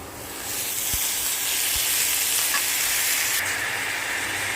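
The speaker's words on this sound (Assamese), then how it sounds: "এতিয়া ভালদৰে অকণমান ফ্ৰাই কৰি লওঁ" Goat meat sizzles in a hot pan with browned onions, a loud continuous hiss of frying with a few brief stirring knocks, no voices over it.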